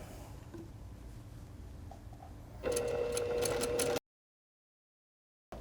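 A sewing machine runs briefly and loudly as quilt row units for a Moon Glow table runner are chain-pieced, a short burst of rapid stitching after quiet room tone, then abrupt silence.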